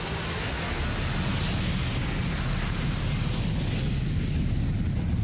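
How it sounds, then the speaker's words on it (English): Malaysia Airlines Flight 370, a jet airliner, takes off at night: a loud, steady broadband engine roar holds throughout with no voices. "Malaysia Airlines Flight 370 leaves the runway"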